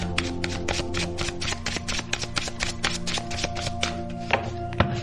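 Tarot cards are shuffled by hand in quick, even flicks and riffles, close and crisp, with a faint steady hum beneath and no speech.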